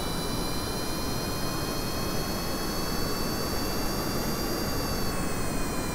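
A plane's jet engine roars steadily in Kerbal Space Program, sounding like a continuous broadband rush with a sustained whine running through all six seconds. No voices are heard.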